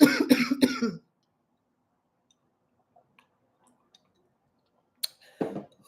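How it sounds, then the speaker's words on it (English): A burst of several harsh coughs up close, followed by a long silence and then a short throat-clearing cough near the end. "this weird ass cough is crazy"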